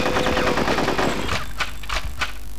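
Rapid automatic gunfire from a firefight in Conker's Bad Fur Day, a dense burst of shots up front followed by a few sharp separate cracks, loud and close with no talking.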